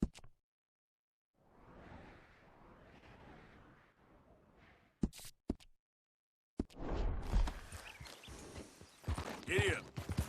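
Horse hooves clip-clopping in Red Dead Redemption 2, a soft rhythmic trot that gives way to louder, busier movement, with a rider's voice heard briefly.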